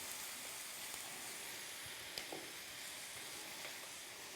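Meat sizzles in a pan with onions and garlic, a soft steady frying hiss with occasional stirring clinks and scrapes, fairly quiet and with no talking.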